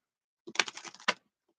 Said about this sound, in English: 1 more shuffle. These cards are so stiff.